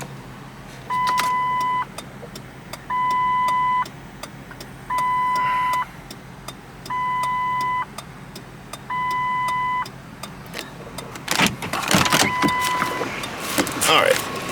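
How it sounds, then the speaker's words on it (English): Hazard lights on a 2006 Lincoln Town Car Designer click in a steady rhythm, five paired bursts about a second apart, fairly close, before a louder rustle and clatter at the end. "we'll turn on the hazards"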